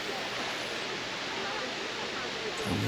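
Steady rushing roar of a waterfall in a park, a continuous broadband wash of falling water heard up close and fairly loud throughout.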